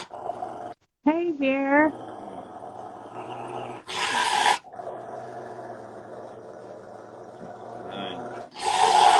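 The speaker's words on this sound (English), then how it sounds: "I hear you over there growling up that storm" A Rottweiler growls and grumbles in short rising vocal bursts, close by, between a man's spoken words and bursts of rushing background noise.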